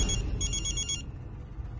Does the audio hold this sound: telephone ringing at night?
yes